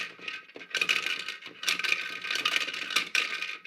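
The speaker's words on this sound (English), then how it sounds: "Those rattling sounds you hear inside him, it's supposed to indicate rocks shifting" Small stones shifting inside a Toy Story 3 Chunk action figure by Thinkway as its face is turned, giving close, scratchy rattling bursts in irregular clusters with brief pauses between them.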